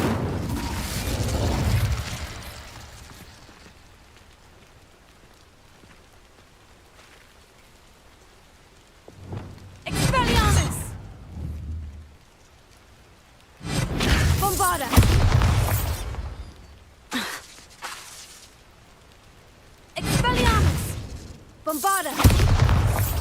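Bombarda blasting spells in the Hogwarts Legacy video game, heard as several loud, sudden explosive bursts separated by quieter gaps, the first booms arriving after a stretch of low rumble.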